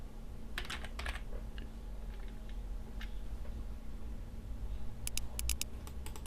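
Close keystrokes on a computer keyboard come in small clusters over a steady background hum, with a quick burst of sharp taps toward the end.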